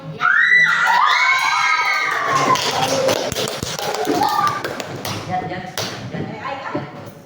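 A class of students claps and cheers loudly, with excited children's shouts over a dense patter of hands that stays steady before easing slightly toward the end.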